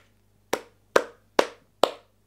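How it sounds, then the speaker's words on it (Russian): Four slow, evenly spaced hand claps, each a sharp crack with a short tail, ring out one after another in a quiet indoor room with no talking. "У меня только аплодисменты"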